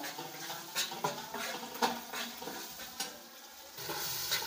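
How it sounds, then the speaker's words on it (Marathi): Masala for a spicy egg curry being sautéed and stirred in a pan, with scraping, clinking spoon strokes at irregular intervals over a soft sizzle, close and fairly quiet. "चांगलं असं परतून घ्यायचं"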